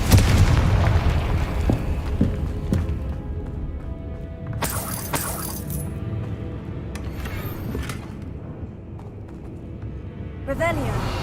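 Confringo blasting spells burst in the Hogwarts Legacy video game: loud booms and shattering crashes recur over eleven seconds amid game noise, with a voice talking through much of it.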